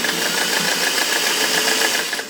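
A sewing machine runs steadily through a quarter-zip sweater hem, a continuous close whir with a faint rhythmic stitching pulse and no talk.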